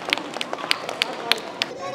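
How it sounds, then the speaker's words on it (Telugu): A crowd gathered around a girl claps in short, uneven bursts with sharp sharp peaks, moderately close, while voices talk over the applause. "కరోనా టైం అమ్మాయికి చప్పట్లు కొట్టండి అందరూ"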